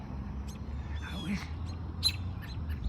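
Small birds give scattered sharp chirps and calls while mobbing a hawk outdoors, several brief high notes spread across a few seconds over a low rumbling background.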